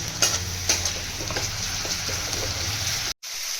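Garlic paste and onion fry with a splash of water in a pan, giving a continuous sizzle with sharp stirring scrapes near the start, close and steady until a brief cut to silence near the end.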